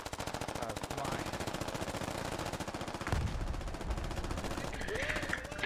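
Sustained rapid machine-gun fire in the military video game Squad, a dense rattling stream of shots that runs almost without pause, followed by a heavier burst and some faint voices.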